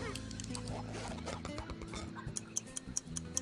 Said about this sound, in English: Then a chicken.